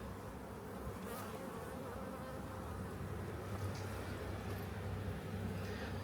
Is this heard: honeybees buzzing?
yes